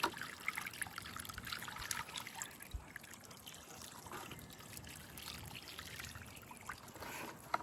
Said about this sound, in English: put it there and water it in again.